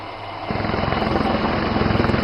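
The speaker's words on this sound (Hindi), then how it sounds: "ये एडवांस लाइट हेलीकॉप्टर्स फिर से यहाँ से उड़ान भरते हुए दिखाई दिए।" Advanced light helicopters lift off during an air show in Dibrugarh, Assam; the rotor and turbine roar swells sharply after a brief lull, then holds loud and close with a rapid, steady blade thump.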